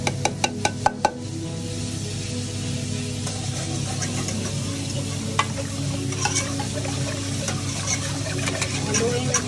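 Coconut milk and cornstarch mixture being stirred for maja blanca, a spoon or whisk scraping steadily around the pot with a faint sizzle underneath, a few sharp clinks at the start.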